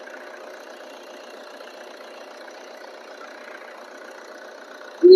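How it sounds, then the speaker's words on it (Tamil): A used car engine idles in a low, even, continuous hum heard close, steady throughout and unaccompanied by speech, ending with a brief sharp sound. "இன்ஜின் சவுண்ட் பாருங்க."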